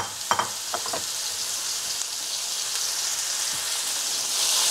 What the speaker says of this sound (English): Now I'm gonna make the stir and fry with garlic.